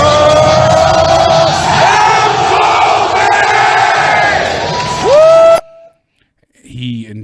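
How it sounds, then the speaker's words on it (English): A packed WWE wrestling arena crowd roars and chants loudly and continuously, a dense wall of voices with whoops rising over it, then cutting off abruptly before a brief quieter murmur. "Everyone was on their feet, erupting in applause, chanting constantly for the Undisputed Era."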